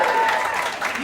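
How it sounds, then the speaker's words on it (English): Audience applause at a new-talent comedy night, a brief burst of clapping from a club crowd, loud and continuous for about a second with faint voices mixed in. "You do not have to clap."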